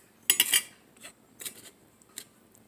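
A spoon clinks against a bowl while Freshpet dog food is stirred together with broth and Honest Kitchen food: a quick burst of bright clinks, then a few softer, spaced taps and scrapes nearby.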